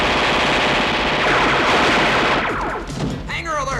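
Loud, continuous bursts of rapid automatic gunfire from a 1986 animated science-fiction film fill the scene, thinning out toward the end as a voice and other effects come through.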